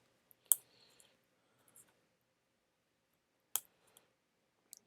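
Sharp plastic clicks of a keycap being pressed onto a keyboard switch on a KBD8x MKII build, two distinct snaps several seconds apart with faint small taps between, close and quiet, no voice.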